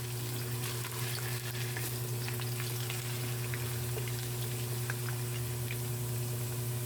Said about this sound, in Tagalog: Ayan ang aking prinito na carrots at patatas.